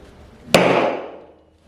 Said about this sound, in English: I'm gonna get a hammer, and I'm gonna see if I can break this open and see what's inside